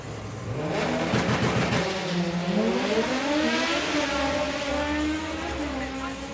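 Honda Civic drag cars launch and race down the strip, one an all-motor car and one turbocharged, engines screaming loud and steady as they rise through the gears, heard from trackside with a rumble underneath.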